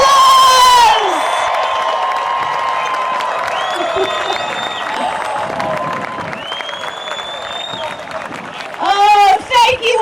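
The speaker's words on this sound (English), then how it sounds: "Please give them a round of applause." A crowd at an outdoor 2021 high school graduation ceremony on a field applauds, cheers and whoops for the new graduates, loud and continuous, with shrill shouts and whistles rising above the clapping and a burst of cheering near the end.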